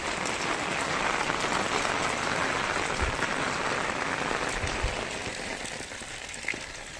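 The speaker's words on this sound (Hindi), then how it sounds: "बाप रे इतनी बारिश" Heavy rain pours down in a hill village, a dense steady hiss of drops pattering on surfaces, loud and continuous throughout.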